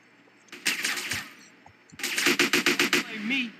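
Gunfire in GTA San Andreas, with loud rapid bursts of shots: a short volley, a pause, then a longer string of about eight evenly spaced cracks, close and dominant with no talking.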